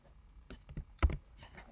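Someone typing on a computer keyboard, a short irregular run of close, crisp key clicks with one louder keystroke near the end.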